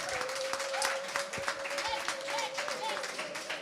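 An audience applauds and claps for Fabregas, steady dense clapping from a crowd throughout, with voices mixed in underneath.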